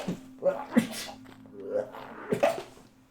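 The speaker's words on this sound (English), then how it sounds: "Freak, I got to sneeze." A single person sneezes, with short voiced bursts and breathy sounds around it, while someone talks before and after.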